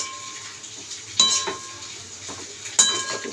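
Chopped ash gourd stalks stirred in a cooking pan for a Bengali chorchori, with a few metallic clinks and scrapes of a spatula against the pan over a soft, low sizzle.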